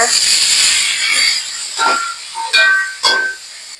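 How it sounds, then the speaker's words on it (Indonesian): Indonesian-style spiced paste and sliced bamboo shoots sizzling in a hot pan, a steady close hiss with brief clinks and stirring bursts toward the end. "Ini aku tumis ya bumbunya. Aku masukin rebungnya."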